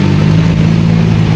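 Vehicle engines idle and rumble close by in slow road traffic in Baguio, a steady low drone that holds loud and even throughout with no voices.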